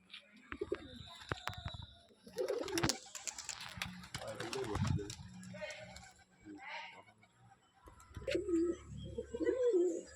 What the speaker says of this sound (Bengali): এবার তোমরা পায়রা দুটোকে ভালোভাবে শখ করে নাও।